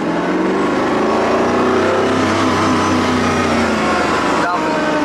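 A Koenigsegg CCX sports car engine runs loudly and steadily close by, its pitch rising and falling slightly as it revs, with a low rumble throughout, in Monaco.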